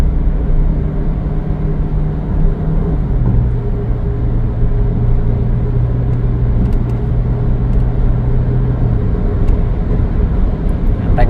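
A Ford Fiesta 1.6 pulls hard on a toll road after a kick-down, its engine droning steadily under heavy road and wind roar, with pitch rising slightly and then settling as the car speeds up.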